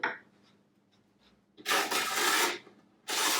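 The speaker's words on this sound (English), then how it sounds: "In our full kit, we have some diamond files. So I just like to run very gently," A diamond file, wetted, rasps gently along the metal edge of a snowboard or ski in two long strokes after quiet handling noises, close and fairly loud with no voices.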